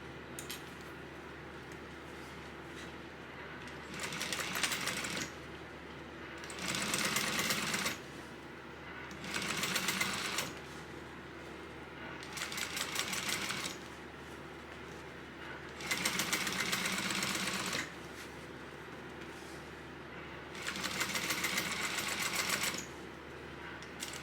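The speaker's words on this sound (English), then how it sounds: "we're going to open this and top stitch this at that 1/8 of an inch seam allowance" A sewing machine topstitches a tote bag seam at an eighth-inch allowance, running in six short, even bursts of rapid mechanical stitching separated by quiet pauses, close up and moderately loud.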